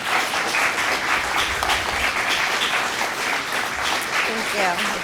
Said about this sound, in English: Ladies and gentlemen, a round of applause for all of our candidates,